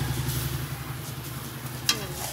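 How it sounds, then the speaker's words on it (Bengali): Cashews and raisins frying in ghee in a home kitchen, a soft continuous sizzle under a low background hum, with a brief sharp clink near the end. "তাই এখানে আমি কাজু কিশমিশ এগুলো দিয়ে দিলাম ঘিয়ের উপরে"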